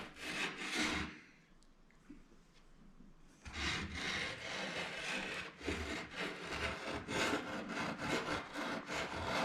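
A hand tool shaves dried glue off a wooden spline in repeated rasping strokes, close and fairly steady, with a short quieter pause early on.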